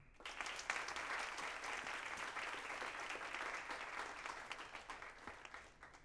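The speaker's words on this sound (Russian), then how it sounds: "Давайте поприветствуем продолжительными аплодисментами великую танцовщицу и актрису мисс Синди." Prolonged applause from an audience at a dance-industry tribute honouring a famous dancer and actress, dense steady clapping filling the whole stretch without talk.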